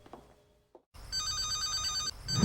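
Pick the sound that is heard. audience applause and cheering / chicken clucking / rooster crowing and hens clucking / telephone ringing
telephone ringing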